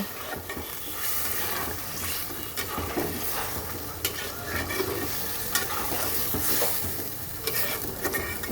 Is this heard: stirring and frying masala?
yes